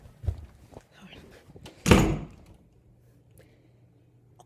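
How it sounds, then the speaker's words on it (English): A household door slams shut once with a sharp, loud thunk midway through, set apart by quiet room sound and a few faint footsteps. "I barely shut that door. It just makes like the loudest slamming sound"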